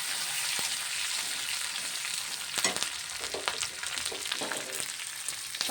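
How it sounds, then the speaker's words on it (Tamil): Dried red chilies, curry leaves and onions sautéed in oil for tempering after cumin seeds, a dense steady sizzle with occasional sharper crackles and stirring scrapes, close and unbroken by talk. "தாளிப்புக்கு காஞ்ச மிளகாய் கருவேப்பிலை வெங்காயம் போட்டு நல்லா வதக்கிக்கலாம் வதங்கட்டும்"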